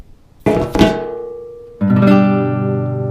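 An open guitar chord is strummed across all strings twice, each strum ringing out clearly and loudly before slowly decaying.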